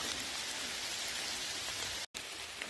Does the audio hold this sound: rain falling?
yes